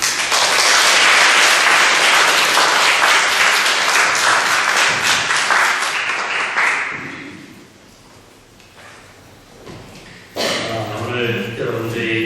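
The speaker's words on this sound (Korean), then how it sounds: "격려의 박수 한번 합시다." Church congregation at an afternoon worship service breaks into loud, dense applause of encouragement that fades out midway, followed by a quieter pause and a voice beginning to speak.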